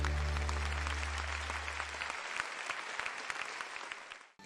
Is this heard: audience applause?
yes